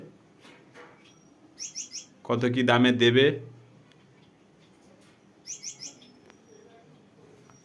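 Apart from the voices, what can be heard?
caged Cremino fisher birds chirping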